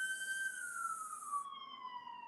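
A wailing emergency siren sounds outside, a steady tone sliding slowly downward and heard at a moderate distance over a quiet background, with no voices.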